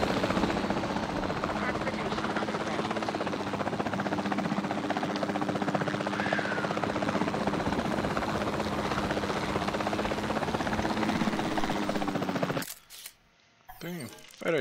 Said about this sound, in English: Gonna take control of the helicopter and take some photos.